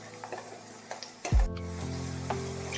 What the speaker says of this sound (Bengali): পেঁয়াজ কুচি, আদা কুচি, রসুন কুচি তেলের মধ্যে ভালোভাবে একটু ভেজে নিতে হবে।